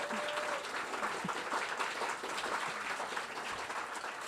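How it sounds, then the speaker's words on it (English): An audience gives the staff a round of applause at an in-house fireside chat, steady, fairly soft clapping filling the room throughout with faint voices underneath. "let's give a loud applause for the staff"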